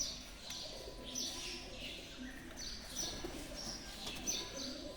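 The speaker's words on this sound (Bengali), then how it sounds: "পায়রার ঘুঘুর আওয়াজ চারদিকে" Pigeons and doves coo softly all around the grounds of an old rajbari with a temple, repeated gentle calls from several birds at moderate distance, with faint chirps in the background.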